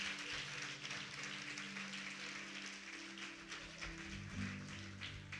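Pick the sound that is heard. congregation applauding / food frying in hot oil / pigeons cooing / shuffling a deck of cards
congregation applauding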